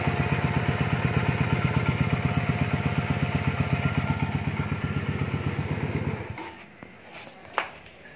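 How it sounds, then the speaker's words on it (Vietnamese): A Honda Rebel 150 motorcycle engine idling, a steady fast low putter held close and loud for about six seconds before it cuts off, leaving faint background noise and one brief knock. "Cho nổ máy cho test tiếng máy."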